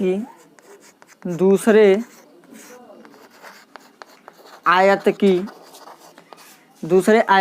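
A pen scratches out a maths problem on paper in quick, dry strokes and taps. Someone talks in bursts between stretches of steady writing.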